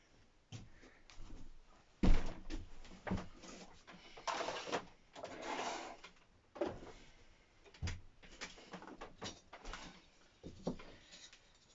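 Wooden drawers in a puppet workshop are pulled open and shoved shut several times during a hunt for chalk, giving a run of close, uneven knocks and sliding scrapes with brief pauses between them.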